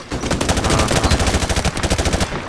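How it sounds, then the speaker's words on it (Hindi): Sustained automatic machine gun fire from Call of Duty: Modern Warfare Remastered, loud and close, a rapid unbroken stream of shots. "machine gun"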